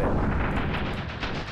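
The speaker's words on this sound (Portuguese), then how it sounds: "explodiu uma bomba no meu pé" A bomb blast in the video game Ravenfield fills the clip with a heavy, rumbling boom that stays loud and dense before fading slightly at the end, with no talk over it.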